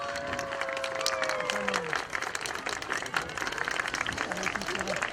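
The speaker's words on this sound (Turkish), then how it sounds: "Alkışlarla açalım arkadaşlar." A crowd applauds outdoors at the opening ceremony of a Turkey–Korea friendship forest in Ballıca village, Pendik, Istanbul, with steady clapping throughout and voices mixed in the background.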